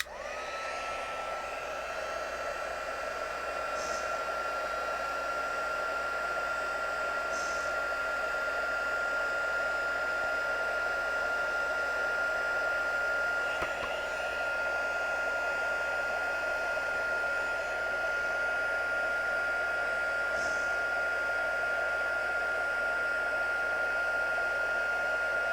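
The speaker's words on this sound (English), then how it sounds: "I want to see if I can dry it with the heat tool" A heat tool drying paint on a handmade Christmas card blows a steady, loud whooshing roar with a faint whine, running unbroken and close for the whole stretch with no talk.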